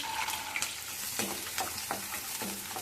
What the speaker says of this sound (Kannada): ಈಗ ಎಣ್ಣೆ ಕಾದ್ಮೇಲೆ ನಾಲ್ಕು ಹಸಿರು ಮೆಣಸಿನ್ಕಾಯಿ ಹೆಚ್ಚಿಟ್ಕೊಂಡಿದ್ದೆ ಹಾಕ್ತಾ ಇದ್ದೀನಿ